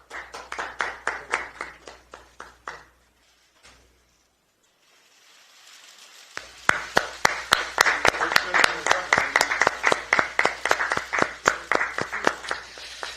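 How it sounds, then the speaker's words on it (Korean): Applause at a political party event welcoming a new recruit: a crowd claps in steady bursts that stop briefly, then swell again louder and more sustained. "박수 부탁드립니다."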